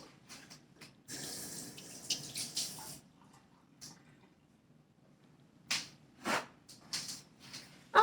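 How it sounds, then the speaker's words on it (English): A kitchen tap runs while hands are rinsed after mixing a Hawaiian butter mochi cake batter, making a steady splashing gush at moderate loudness that stops and gives way to a few scattered splashes and knocks. "Let me rinse my hands off."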